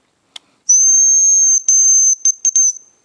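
A loud, pure whistle imitating a hazel grouse call, held steady at a high pitch, broken into a long note followed by several shorter bursts, in an autumn forest by a river.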